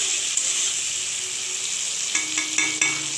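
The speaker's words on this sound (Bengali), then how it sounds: "লাল লাল করে ভেজে নেব, কালার চেঞ্জ হয়ে যাবে চিংড়ি" Shrimp fry in oil with a constant bright sizzle, close and fairly loud, with a few soft stirring knocks near the end and no talking.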